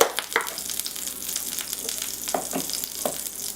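Vegan butter sizzles in a frying pan before vegetables are sautéed, giving a soft, steady hiss with a few faint stirring clicks, close by and fairly quiet.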